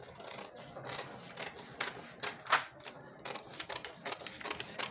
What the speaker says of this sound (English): I'll take my scissors and I'll slash it.